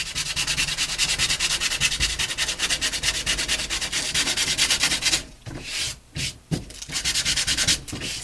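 A paper page in an altered paper-doll book being sanded by hand, heard as rapid, even, close rubbing strokes that run continuously, then break into a few short separate swipes near the end.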